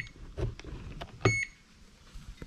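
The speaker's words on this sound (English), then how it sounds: "that kettle just blip, it showed me that it's going to turn on" An electric kettle plugged into a PID temperature controller gives a single short electronic blip as it switches on, clear and close amid faint handling noises.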